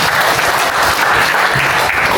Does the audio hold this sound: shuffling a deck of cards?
no